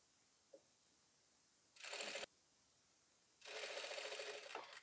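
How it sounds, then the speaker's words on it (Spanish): A sewing machine stitches fabric for a woman's dress in two quick motorized bursts, one short and one longer, separated by quiet, with a faint click before them. "y voy cosiendo"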